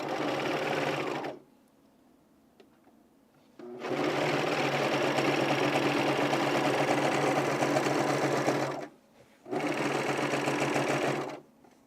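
A sewing machine runs on men's pants in long, loud continuous stretches of humming stitching, broken by two brief silent gaps.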